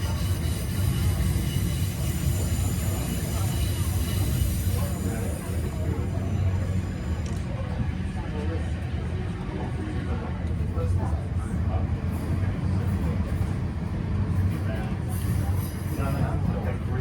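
Steady rumble of an express train arriving at South Yarra station near Melbourne, a continuous low roar heard from inside the carriage that eases slightly partway through, with a station announcement over it.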